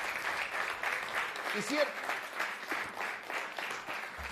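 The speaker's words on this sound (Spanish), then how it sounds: "Fuerte el aplauso para la justicia, señoras y señores." Audience applause on a Spanish-language broadcast, a moderate wash of clapping that runs under a voice speaking over it, with a brief tonal sound partway through.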